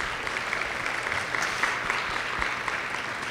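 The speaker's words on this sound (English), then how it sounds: "We give them a big round of applause." An audience gives a sustained round of applause, with dense, even clapping from many hands throughout and no voices.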